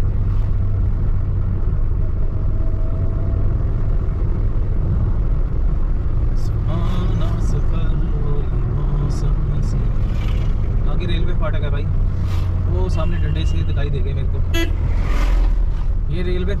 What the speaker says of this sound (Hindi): तीसरे गियर में गाड़ी है मेरी, ढलान के ऊपर गाड़ी जा रही है मेरी नीचे उतराई में